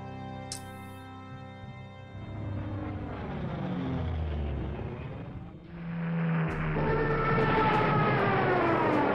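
A Stuka dive bomber in the Panzer Corps game, its rising and falling siren wail sweeping over a rumbling engine, loud and close, ending in a sustained roar.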